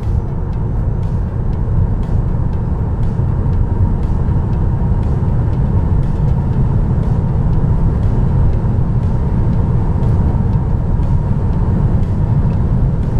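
A Tesla accelerates at full throttle during a desert speed test, giving a loud, steady rush of road and wind noise with faint ticks repeating at a regular pace throughout, with no voices.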